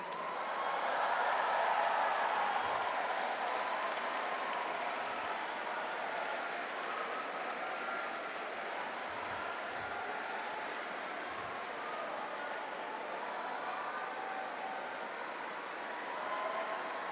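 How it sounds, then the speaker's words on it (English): Sustained applause from a large audience at the Ateneo de Davao University 2016 graduation ceremony, loud and steady for the whole stretch, a broad wash of clapping from a crowded hall. "show their grateful appreciation with a good round of applause for their parents and loved ones"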